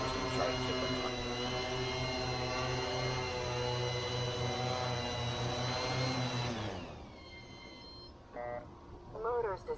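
A large drone's motors whine at a steady pitch with a strong hum, then spin down and fade after about six seconds, leaving quieter background sounds and brief bits of talk.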